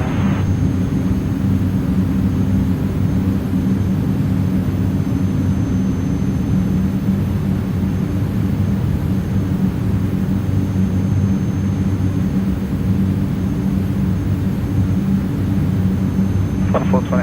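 An ATR 72-600 turboprop takes off in Microsoft Flight Simulator with a steady, loud engine drone and rumble that holds evenly throughout, heard from inside the cockpit with no sudden changes.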